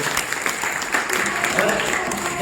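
A crowd at a network marketing gathering claps in sustained, dense applause, loud and close, with cheering voices mixed into the clapping throughout.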